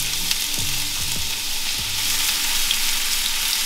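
Onions and garlic sizzle steadily in a hot pan, a constant bright hiss with a few soft knocks of stirring early on. The frying is close and moderately quiet, with no talking.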